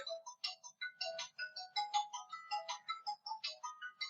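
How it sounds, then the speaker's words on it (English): A father's mobile phone rings nearby with a repeating melodic ringtone of bright, chiming tones in steady short phrases, running throughout the clip with no talking over it. "Oops, my father's phone is ringing."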